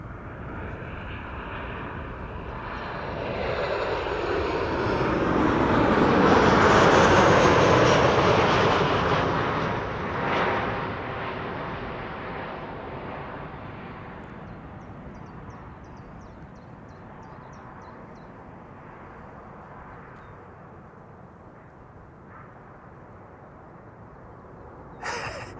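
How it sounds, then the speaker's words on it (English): KLM Boeing 737-800 landing at Amsterdam Schiphol, a broad jet roar that swells loudly over the first several seconds, peaks near seven seconds, then slowly fades into a lingering distant rumble. "KLM flight 1164 arriving from Bergen. It's a 737-800."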